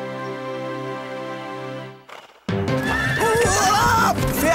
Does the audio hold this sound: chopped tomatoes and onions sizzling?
no